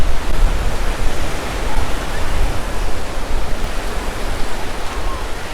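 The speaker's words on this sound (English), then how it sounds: "the wind does bring some light relief down here in Playa de Muro" Strong wind buffeting the microphone at Playa de Muro beach in Mallorca on a hot day, a loud, continuous broadband roar with gusty fluctuations and heavy low rumble throughout.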